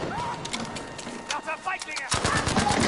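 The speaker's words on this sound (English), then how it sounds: "God, they're shooting me in the butt!" Enemy gunfire in the video game Battlefield V, rapid automatic bursts and single shots crackling close and loud, with a brief lull before a fresh volley, mixed with game ambience and a player's voice.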